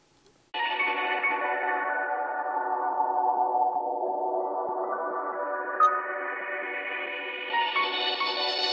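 A loud, heavily distorted synth tone on a music beat in FL Studio holds for several seconds, sliding down in pitch then back up, with a wobbling, echoey effect.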